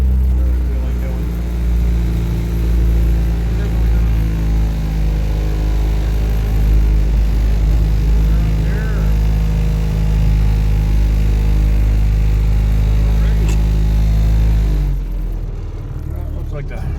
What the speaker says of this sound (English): We'll pull up here, maybe let it idle for a second.